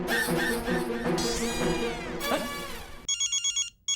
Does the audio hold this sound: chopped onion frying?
no